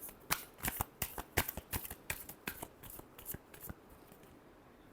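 Tarot cards are shuffled by hand up close, a rapid series of crisp riffling slaps in an uneven rhythm that tapers off toward the end.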